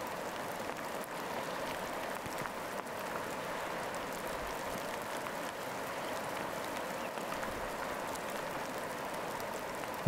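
Steady rain falls on window glass in a treehouse surrounded by evergreen trees, a dense, even hiss of drops that holds constant and close throughout with no voices.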